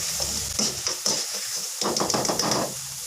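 Potato pakoras fry in hot oil, and the close, bubbling sizzle comes in uneven bursts. Knocks and scraping mark the pakoras being lifted out, and no one speaks.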